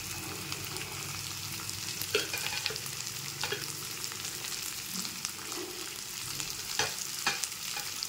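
Potatoes and peas cooking in a pan for aloo batani curry, a steady close sizzle and bubbling with scattered clicks and light scrapes throughout, no talking.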